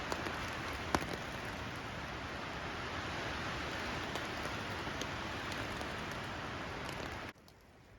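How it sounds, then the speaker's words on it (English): Rain falls in a truck simulator video game, a broad steady hiss of drops with a few faint ticks, holding at an even level for about seven seconds before cutting off abruptly to near quiet. "Thank goodness it started raining again."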